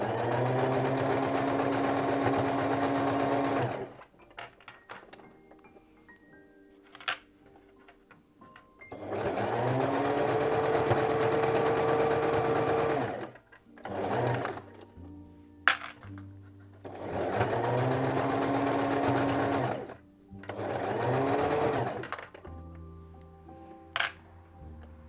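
A domestic sewing machine runs a seam 1 cm from the fabric edge in three sustained bursts of rapid, whirring stitching, separated by pauses filled with small clicks and handling noises, recorded close up.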